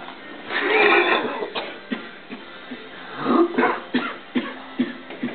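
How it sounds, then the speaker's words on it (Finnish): A person coughs several times in short, rough bursts at close range, with pauses between the coughs and some throat-clearing sounds. "Älä helvetti sinne jääkaappiin yski."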